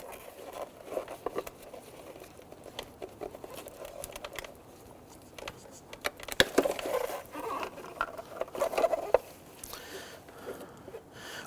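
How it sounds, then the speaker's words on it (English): A flathead screwdriver pries the mirror glass off a 2008-2013 Infiniti G37 side mirror, giving scraping, creaking plastic and a few sharp cracks and pops up close, with faint background noise and no talking. "just use a flathead screwdriver, pop the mirror glass off."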